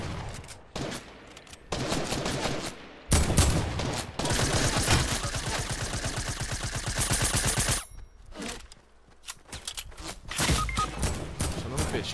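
Bursts of rapid automatic gunfire in Rainbow Six Vegas crackle loud and close, with sustained volleys broken by short pauses and single shots.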